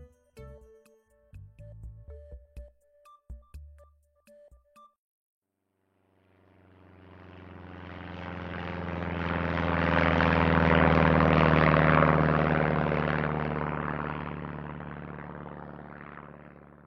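A Canadair firefighting water bomber approaches from afar, its propeller engine drone swelling to a loud roar overhead before slowly fading, after a few brief knocks and clicks.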